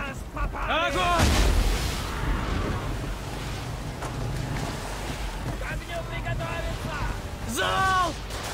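Ship cannons fire in a naval battle video game, a heavy boom early on amid wind and sea noise, with excited shouting voices layered throughout.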